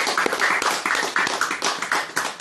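A small audience at a talk claps in loose, uneven bursts, with individual hand claps standing out, fairly close and moderately loud.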